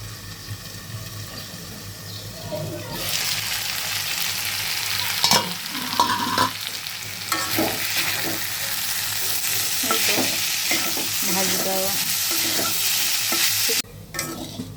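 Potatoes frying with onion stalks in a pan sizzle steadily while a spatula scrapes and stirs in irregular strokes, close and fairly loud, with a brief gap near the end.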